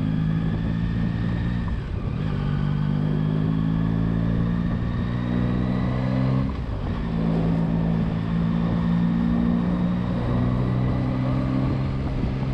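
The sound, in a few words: Yamaha Tracer 9 GT motorcycle engine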